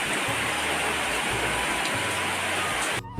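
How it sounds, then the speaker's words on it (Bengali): Heavy rain pours outside a house, a dense, loud, unbroken rushing hiss with a low rumble underneath, cutting off abruptly at the end. "আর দেখো বাইরে খুব বৃষ্টি"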